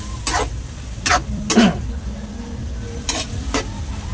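Paklay, a dish of innards with a splash of vinegar, is mixed and sautéed in a pan: several loud, distinct scraping stirs over a continuous close sizzle, with no speech.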